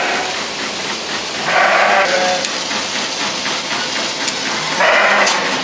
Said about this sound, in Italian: Questo è l'ultimo gruppo di pecore.